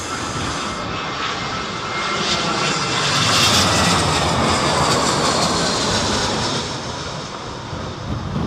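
A plane's engines roar loudly as it lands at Heathrow airport in Storm Isha, a sustained rushing drone that swells in the middle, with strong wind buffeting the microphone throughout.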